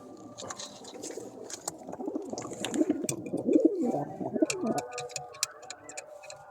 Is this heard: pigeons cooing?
yes